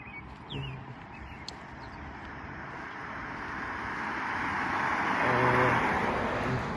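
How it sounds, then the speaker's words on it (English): A car passes on a street near a house, its broadband road noise swelling gradually from faint to a louder peak near the end, with no talk. "Walking by the door of this house when that car drives by me."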